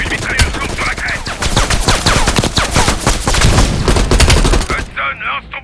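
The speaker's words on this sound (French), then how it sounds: "Attention, une mitrailleuse lourde sur la crête." Heavy machine gun fire from a ridge in the Call of Duty Black Ops Cold War video game, a loud, dense, unbroken barrage of rapid shots and blasts that stops abruptly near the end.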